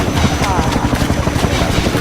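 A loud helicopter in Half-Life 2 with rapid, chopping rotor thumps over a heavy engine roar, close and continuous throughout.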